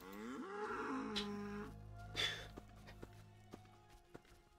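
Cow mooing in The Witcher video game, a long low drawn-out call near the start, with game ambience and a few soft thuds after it.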